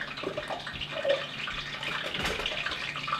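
A homemade egg roll is lowered into hot frying oil, giving a steady, moderately loud hiss with scattered crackles and pops throughout and no talking.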